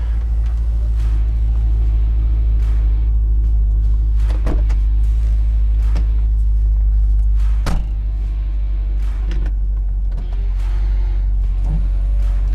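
A 1962 Corvette restomod idles while warming up from cold, a steady, deep, close rumble with a few faint clicks and knocks over it.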